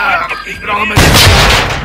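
Heavy gunfire in a Call of Duty: Modern Warfare 2 match, a loud burst of shots erupting partway through after quieter moments with speech, then a sustained roar of close fire.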